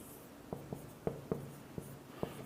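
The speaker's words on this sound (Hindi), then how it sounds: "होमवर्क, ये साइड में लिख दे रहे हैं" Chalk tapping and scratching on a classroom board as a homework note is written, several short sharp strokes at irregular intervals, close and clear with no talking.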